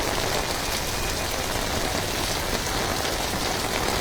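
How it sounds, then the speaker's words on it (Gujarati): Heavy rain pours down in Subhanpura, Vadodara, a dense, steady hiss of countless drops drumming on surfaces, loud and unbroken throughout, with no voices. "સુબાનપુરામાં ધોધમાર વરસાદ છે"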